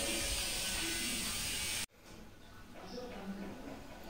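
Screws being undone beneath a car headlight combination switch on a Volkswagen or Skoda with a T20 Torx bit, heard as a loud ratcheting mechanical whirr that cuts off abruptly, followed by quieter handling noises.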